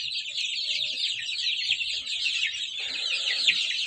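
A brood of month-old chicks and hens in a poultry pen keep up a continuous, dense chorus of high peeping and chirping, with soft clucks mixed in beneath it and no voices.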